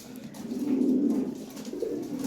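Lahori fancy pigeons at a sale coo in a low, rolling throaty call that swells and fades, close and clear, with no talking.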